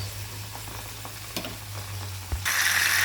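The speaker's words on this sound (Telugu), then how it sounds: "అలాగా కొంచెం గోల్డ్ కలర్ వచ్చేంత వరకు మనం ఫ్రై చేసుకోవాలండి" Eggplant pieces frying in hot oil until golden, a steady close sizzle with faint clinks, swelling suddenly louder and brighter near the end.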